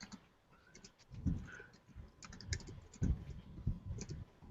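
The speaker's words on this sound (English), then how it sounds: "Oh, I'll type this for her." Typing on a computer keyboard, with quiet, irregular clusters of key clicks close by and no talking.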